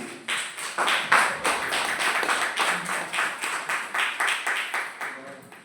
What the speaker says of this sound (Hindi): मैं चाहता हूं हमारे डायरेक्टर लोगों के लिए एक जोरदार ताली होना चाहिए।